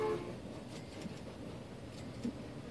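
A train in the video game Transport Fever, a low, even rumble of rolling wheels throughout, with a brief tonal blip near the start and a faint knock toward the end.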